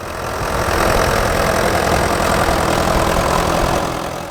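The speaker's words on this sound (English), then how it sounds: "Our first tractor is a Ford Super Major" Ford Super Major tractor working in a field at a vintage working event, a steady loud diesel rumble with knocking character, close and continuous throughout, no talk.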